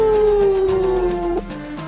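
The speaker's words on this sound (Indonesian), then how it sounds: "Di kejauhan terdengar suara anjing melolong." A dog howls in the distance as a sound effect in a martial-arts audiobook, one long sustained wail gliding slowly downward over a steady background bed before fading.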